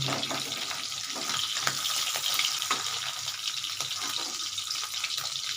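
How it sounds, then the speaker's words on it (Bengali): Small mourala fish fry in hot oil in a pan. A close, steady crackling sizzle runs throughout, with small pops and spits scattered across it. "দেখো বন্ধুরা মাছ ভাজাটা হয়ে গেছে আমার"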